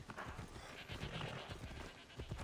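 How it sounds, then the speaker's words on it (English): Hoofbeats of a horse galloping in the video game Assassin's Creed Odyssey, a steady rapid clatter of hooves running close and loud throughout, with no talk over it. "They say if you run while you call your horse, you will automatically jump on the back of it."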